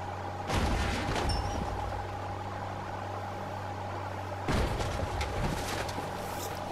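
Two heavy blasts from green sticky bombs exploding on zombies in the mobile game Indian Bike Driving 3D thud out a few seconds apart over a steady engine-like drone.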